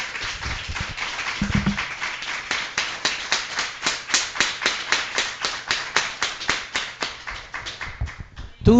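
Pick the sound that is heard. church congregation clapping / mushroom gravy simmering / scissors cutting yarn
church congregation clapping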